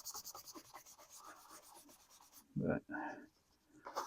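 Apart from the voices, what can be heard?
scrubbing a knife sheath with lather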